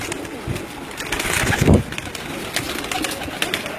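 Pigeons at a pigeon club loft give soft, throaty coos close by, one fuller cooing call rising in the middle amid light rustling and steady background noise.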